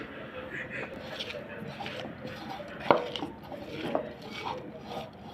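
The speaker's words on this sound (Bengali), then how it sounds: "পেঁয়াজ আর রসুনটা ডলে নিচ্ছি।" Onion and garlic, with fresh and dried chillies, mashed by hand for a Bengali onion-leaf bhorta, giving soft squelching and rubbing sounds with a couple of light clinks against a dish, while a voice talks over it.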